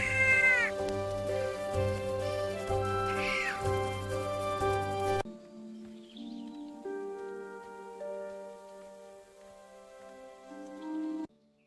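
A cat meows several times in drawn-out cries over a sustained musical backdrop, then the sound drops to quiet music alone.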